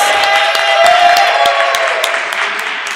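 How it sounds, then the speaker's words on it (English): A town hall audience gives a round of applause, dense steady clapping with some cheering that fills the room loudly and evenly throughout, with a faint sustained tone underneath. "Can we give a round of applause to Ms. Kim Sanders?"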